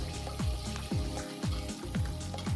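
Cumin, pepper and shallots sautéing in a pan for mutton soup, giving a steady crackling sizzle with a regular stirring stroke about every half second, close up and without voices.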